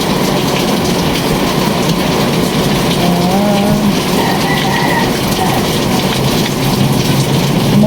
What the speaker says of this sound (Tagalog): Umuulan ang Baseco.